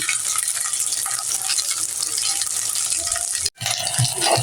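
Pangas fish kofta balls fry in white oil in a pan, giving a loud, dense sizzle with crackles up close, broken by a brief silent gap before the frying resumes.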